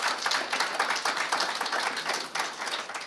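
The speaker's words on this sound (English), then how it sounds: "Can you give him a round of applause?" An audience applauds a deputy minister of planning and monitoring at a business school symposium in Johannesburg, a steady, dense wash of many hands clapping that carries on evenly from start to end.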